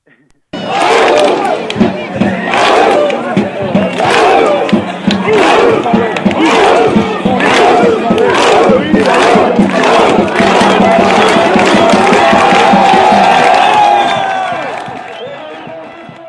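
A large football crowd in a French stadium chants in unison, a loud rhythmic roar of voices repeating the "haou" call in steady pulses over sustained crowd noise, fading out at the end.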